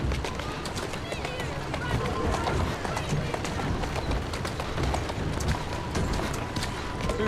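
Galloping horse hooves from Assassin's Creed Syndicate, a steady rapid run of clip-clop beats close by, busy and continuous under a dense game soundscape with speech present.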